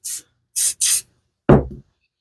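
Aerosol activator sprayed onto glued parts of a bird nesting feeder: three short hissing bursts, the last two close together, then a duller rubbing or handling sound, near and fairly loud.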